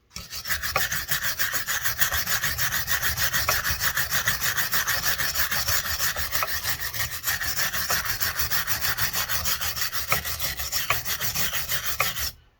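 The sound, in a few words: scrubbing a cylinder head by hand with a wire brush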